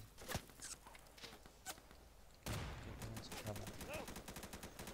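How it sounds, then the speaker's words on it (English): Gunfire in a military video game: scattered, distant-sounding single shots crack at intervals, then a louder burst of rapid, repeated shots takes over, heard alone without talk. "Too high, I'm getting shot."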